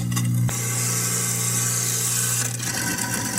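Kitchen sink food waste disposal in an American home running steadily, a loud continuous grinding hum with a strong low tone and broadband rattle, a brief shift near the start and a change in texture toward the end.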